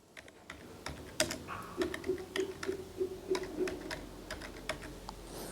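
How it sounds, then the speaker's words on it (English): Typing on a computer keyboard into a search box, a steady series of close, crisp key clicks with an even rhythm and no speech. "just type in a search box and press enter"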